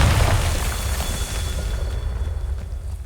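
A Confringo curse from Hogwarts Legacy erupts in a loud, sustained booming blast with rumbling low-end weight that rolls on and decays over about three seconds, standing alone without voices.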